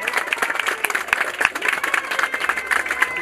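Scattered applause from a small audience at a Hindi poetry recitation, uneven claps close by with a steady crackle throughout.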